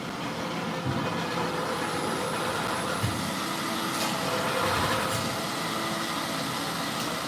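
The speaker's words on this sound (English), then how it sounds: "And you guys can start to hear in the background, that is our truck mount." A carpet cleaning truck mount machine drones continuously in the background during rug cleaning, a steady mechanical hum with a few faint clicks and knocks over it.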